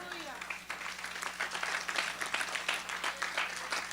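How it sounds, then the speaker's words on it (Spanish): Congregation clapping in a church service, a dense, lively round of applause from many hands with voices mixed in underneath, moderately loud throughout. "Dale un aplauso al Señor."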